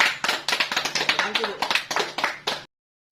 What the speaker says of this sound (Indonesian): Berikan aplaus untuk temannya.